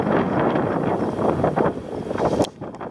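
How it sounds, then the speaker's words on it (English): Strong gusting wind roars across the microphone, a loud continuous rumble that surges and briefly drops near the end. "That wind really picked up now."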